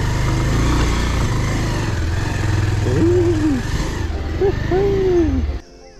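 A motorcycle climbs uphill on a rough village road near Gahate, Chisapani in Lamjung, its engine droning loud and steady for several seconds before cutting off abruptly near the end, with brief speech over it.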